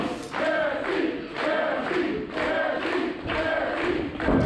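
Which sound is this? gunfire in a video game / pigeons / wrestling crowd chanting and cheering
wrestling crowd chanting and cheering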